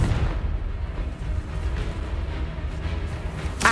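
A Confringo fire spell in Hogwarts Legacy sets off a sustained fiery blast and rumbling burst, loud and close, with a sharp crackling flare at the very end.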